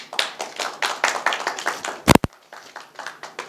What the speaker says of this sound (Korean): 시청자 여러분, 신동섭 박사님을 박수로 맞이해 주시기 바랍니다.